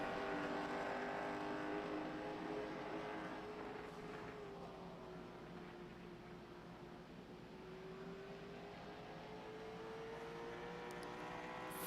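A late model stock car on its first qualifying lap at USA Speedway, on cold tires, holds a loud, continuous engine roar whose pitch dips and then climbs again as it accelerates, with no voices.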